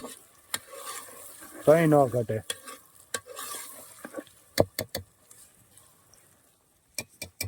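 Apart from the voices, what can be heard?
sizzling spice tempering (vaghar) in a pan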